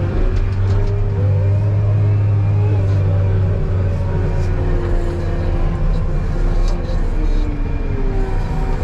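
A truck engine revs steadily as the vehicle moves near a wheel loader working with a side dump bucket, a loud continuous low rumble with a sustained droning tone and no pauses.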